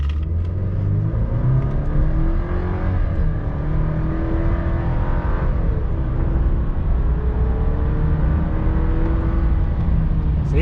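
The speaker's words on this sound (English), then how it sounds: "So even when I let off, it's still accelerating." Chevrolet Silverado 4x4 turbo pickup accelerating, a steady loud engine drone with rising whine, continuous throughout with no pauses and no talk.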